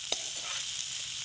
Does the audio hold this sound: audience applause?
no